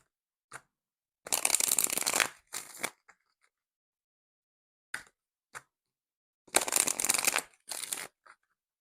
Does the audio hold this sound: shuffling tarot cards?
yes